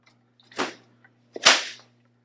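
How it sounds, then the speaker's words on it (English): Clean cheesecloth being snapped out up and down during lithography crayon etching, two sharp cracking snaps about a second apart, close and loud against a faint steady hum, with no talking. "When you're snapping out the clean cheesecloth, you're not aiming at anyone, you're just doing it up and down. And it should make a snapping noise"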